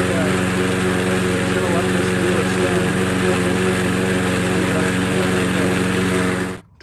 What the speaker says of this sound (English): I just took it around and did some quick mowing.